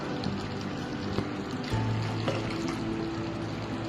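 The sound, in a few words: pouring hot water into chicken korma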